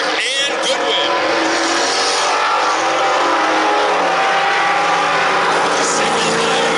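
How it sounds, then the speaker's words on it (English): Race cars run single file at Lake Doucette Motor Speedway, a continuous loud roar of engines sweeping past with rising and falling pitch, while a commentator talks over it. "Single file racing here at Lake Doucette Motor Speedway."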